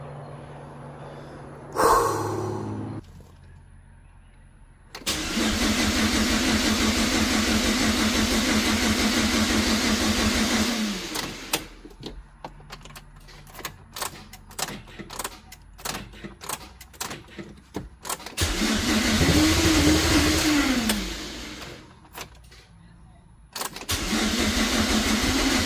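Chevrolet Cobalt SS being cranked with a loud starter, then its engine catching and running at a steady rumble, cutting out and restarting with repeated cranking and revving, close and loud with no talk.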